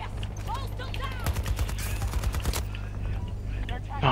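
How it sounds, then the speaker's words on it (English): Rapid bursts of automatic gunfire and shots crackle through a Battlefield 2042 match, peaking in a dense volley midway, while players talk over the action. "Getting shot from people."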